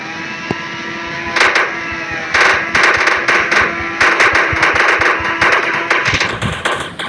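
Sticky bombs go off in Indian Bike Driving 3D, a loud run of sharp bursts in rapid succession over steady game noise, some blasts crackling together.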